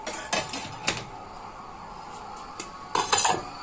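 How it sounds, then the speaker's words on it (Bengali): A lid comes off a metal cooking pot of pona fish dum after the gas burner is switched off. Sharp metallic clinks and scrapes sound at the start and again near the end over a low steady hiss. "ঢাকনাটা খুলে দেখি।"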